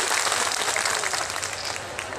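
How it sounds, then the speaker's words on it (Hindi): A crowd at a peaceful sit-in protest in Delhi claps to welcome a police officer: dense, sustained applause from many hands, loud and close, steady, then easing slightly toward the end. "सभी लोग हाथ उठा करके अब ताली बजा के स्वागत करो"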